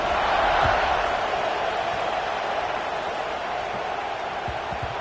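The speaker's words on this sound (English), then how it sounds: "this crowd is feeling themselves after that last drive" A college football stadium crowd roars steadily at a kickoff, a dense, loud wash of cheering voices with whoops that holds strong throughout.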